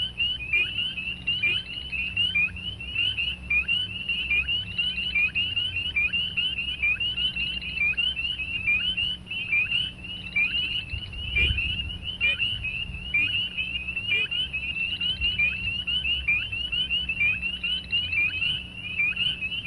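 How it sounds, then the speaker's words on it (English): A chorus of spring peeper frogs in a marsh repeats high, piercing peeps in a continuous overlapping pulse over a faint low background hum. "So here is the peeping of the spring peepers."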